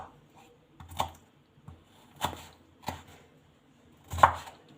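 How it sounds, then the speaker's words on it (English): A knife chops ginger on a cutting board in five separate, unevenly spaced thuds, fairly quiet with near silence between strokes. "So I'm cutting in this ginger."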